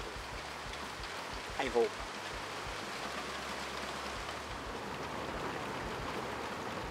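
Rain falls steadily at a hunting camp in Florida, a constant broadband hiss throughout with a brief spoken remark partway in.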